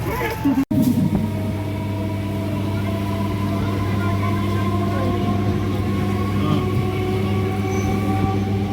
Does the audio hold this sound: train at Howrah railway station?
yes